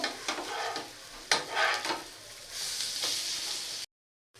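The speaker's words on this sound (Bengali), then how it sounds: "তো এখন এগুলোকে সব উল্টে পাল্টে দেবো এক পিঠ হয়ে গেছে আর এক পিঠ ভালো করে ভেজে নেব" Breakfast snacks are turned over and shallow-fried in a pan with little oil: scraping strokes and clatter ride over a close, continuous sizzle before the sound cuts off abruptly.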